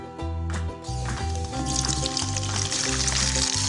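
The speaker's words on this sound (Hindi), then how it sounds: "तेल हमारा गर्म हो चुका है, इसमें अब हम गाजर को डाल देंगे" Carrots drop into hot oil in a pan on a gas stove, setting off a bright, crackling sizzle that builds and holds over a low steady hum.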